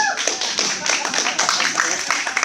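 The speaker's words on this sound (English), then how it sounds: "Y'all give yourselves a round of applause for coming out here to God knows where." An audience at a Texas stand-up comedy show claps, a dense, fairly close patter of many hands with speech mixed in over it.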